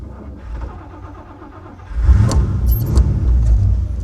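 A 1960 Buick Electra 225 starts by push button: a low idle-like rumble gives way at about two seconds to a loud engine catch and steady, throaty running with a few metallic clinks.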